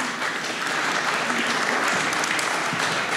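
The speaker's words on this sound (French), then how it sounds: "Je vous demande d'applaudir Sylvie David." A full room applauds at a finance conference, dense continuous clapping filling the space at a constant level throughout.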